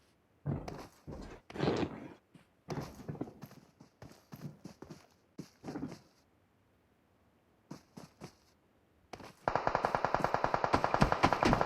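Bursts of rapid gunfire crack out in a battle royale shooter game, short clustered volleys separated by pauses, ending in a sustained loud automatic stream of shots.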